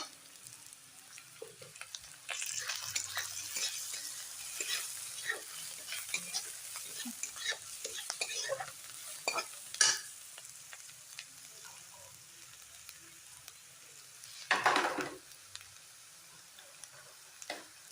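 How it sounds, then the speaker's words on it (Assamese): Onions half-fried in a pan for a potato, pea and paneer dish, a quiet steady sizzle under intermittent scraping stirs, with a louder clatter of the spoon near the end. "পিঁয়াজখিনি আধা ভজা হৈছে"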